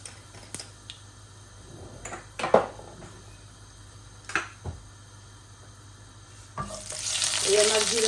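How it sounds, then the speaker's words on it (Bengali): Cumin seeds hitting hot oil in a pan, a few sharp clicks and taps at first, then a rising hiss of sizzling that swells and holds near the end, close and moderately loud. "প্রথমে আমি জিরা দিয়ে দিচ্ছি"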